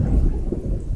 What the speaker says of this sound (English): Some thunder from the game.